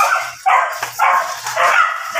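Several dogs at a dog breeder's yard bark loudly in repeated bursts, three or four close, sharp volleys with brief gaps between them.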